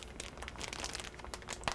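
A plastic piping bag being handled and sealed: quiet, close crinkling and rustling with small crisp crackles and a sharper crunch at the end, with no talk.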